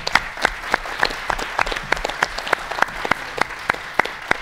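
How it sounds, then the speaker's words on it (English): Audience applause at the Texas Quiz Show 2012 in the Bob Bullock Texas State History Museum, a steady crowd clapping with sharp individual claps standing out, moderately loud, with no talk. "let's have a special round of applause"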